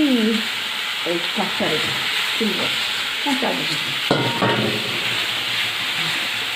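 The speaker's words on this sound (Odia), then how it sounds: "ଦେଖନ୍ତୁ ଆମର ମସଲାଟା କଷା ହେଉଛି" Spiced masala paste frying in a pan for an Odia fish curry, with a steady loud sizzle under repeated stirring scrapes and short clinks from a spoon.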